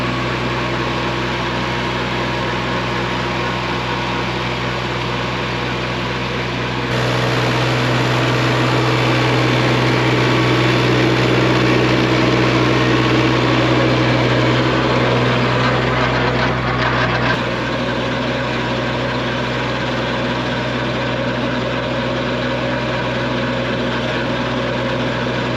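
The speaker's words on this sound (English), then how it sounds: "This 3rd tilling today is gonna be where we need to be. So let's get it tilled up." A garden tiller churns through soil for a third pass, its engine droning steadily and growing louder partway through as it works closer, with no talk over the continuous rumble.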